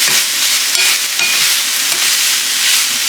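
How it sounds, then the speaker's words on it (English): Spinach sizzling and wilting in a hot pan for lasagna roll ups, a loud, close, continuous hiss of frying with faint stirring scrapes and no talk. "So you want to cook that down until it's nice and wilted."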